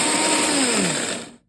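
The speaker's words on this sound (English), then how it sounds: "I'm about to grind into powder my garlic, dehydrated garlic, celery, and green onion" A Vitamix blender grinding dehydrated garlic, celery and green onion into powder, roaring loudly and close with a high whine, the motor pitch sliding down before the sound cuts off abruptly.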